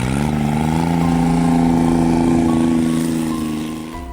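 A turbocharged John Deere HPX diesel utility vehicle of about 35 to 40 horsepower drives through snow, its engine a loud, steady, close drone that eases off slightly at the end, with no voices.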